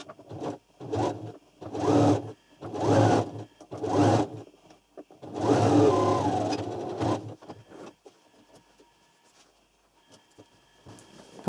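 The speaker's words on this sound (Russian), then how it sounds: "Шьем аккуратненько, иголочку вытаскиваем." A sewing machine stitching a beret runs in short loud bursts, four brief runs and then one longer run, followed by quiet handling sounds as it stops.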